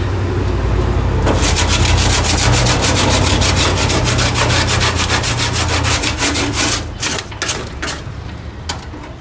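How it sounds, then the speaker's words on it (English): Steady, loud abrasive sanding of adhesive off a Cadillac trunk, rubbing continuously close up, with a rhythmic scratchy grinding that turns choppier toward the end. "I think I'm sanding adhesive."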